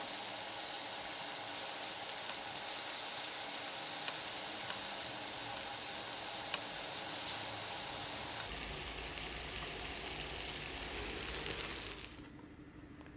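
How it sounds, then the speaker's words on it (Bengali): Shrimp fry briefly over high heat in a little oil, giving a steady, loud, close sizzle and hiss throughout that thins out slightly toward the end. "সামান্য তেল দিয়ে আমি ভেজে নেবো মাছগুলোকে"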